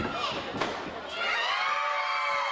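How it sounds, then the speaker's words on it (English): A wrestling crowd at a championship event roars and cheers for Dump Truck, the sound swelling into a loud, sustained wall of shouting voices. "they're cheering Dump Truck"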